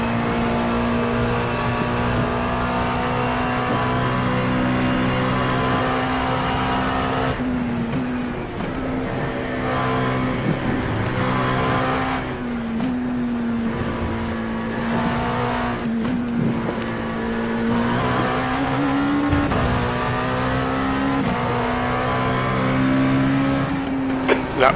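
An LMP2 prototype race car lapping Mosport (Canadian Tire Motorsport Park), its engine droning loudly and continuously from on board, rising and falling in pitch through gear changes and acceleration for the whole stretch.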